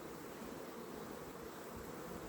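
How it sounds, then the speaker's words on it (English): Dense, steady hum of many honeybees buzzing inside a crowded, congested beehive, a continuous close drone with no pauses or other sounds. "There's so many bees in here."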